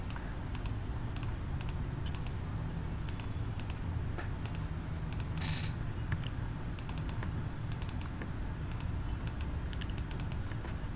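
Steady typing on a computer keyboard, mixed with occasional mouse clicks, during Amibroker coding; the crisp, close keystrokes come in irregular bursts over a low background hum, with no speech.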